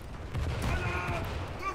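Anti-air guns on a cruiser in a naval video game fire in a rapid, rumbling stream of muffled booms, a continuous thudding barrage lasting under two seconds.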